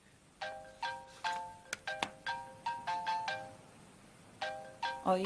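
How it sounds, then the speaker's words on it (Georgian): A mobile phone ringtone in a dubbed television drama plays as quiet, repeated melodic chime bursts in a steady pattern, pauses briefly, then starts again. "ნადია რეკავს."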